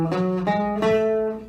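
An ascending melodic minor scale with raised sixth and seventh is played quickly as a short run of clear pitched notes, several in a row, each ringing into the next.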